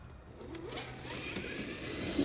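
Traxxas TRX-4 RC truck with a Hobbywing Fusion motor on 2S, running in low gear: a steady electric whine that rises in pitch as it picks up speed, with mechanical drivetrain noise close by and no talking.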